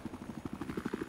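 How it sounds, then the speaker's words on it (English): A Battlefield 4 helicopter passes nearby in game, its rotor producing a quick, rhythmic chop of evenly spaced thuds at moderate volume. "Other heli's coming around"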